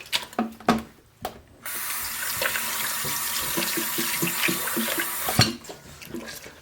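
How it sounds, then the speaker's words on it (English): Running tap water pours steadily over homemade butter in a bowl as it is rinsed to wash out the buttermilk, a loud continuous gush after a few sharp knocks and splashes at the start. "So you're basically washing the buttermilk out of the butter."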